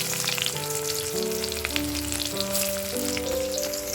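Panch phoron spices sizzle steadily in hot oil in a wok as onions go in, giving a dense, continuous crackle close up, with a faint tonal hum underneath and no voices.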